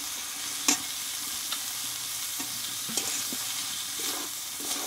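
Pumpkin greens and stalks frying with spices in a pan, a soft steady sizzle broken by a few sharp scrapes and clinks of a spoon stirring, close and fairly quiet, with no voices.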